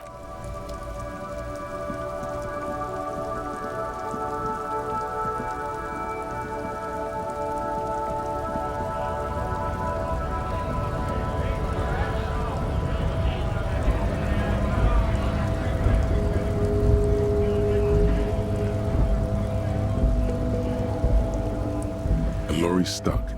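Steady rain falls in the video game Disco Elysium, a continuous hiss and patter on surfaces with low rumbling beneath, rising slightly in intensity toward the end, set in a traffic jam with a lorry stuck nearby.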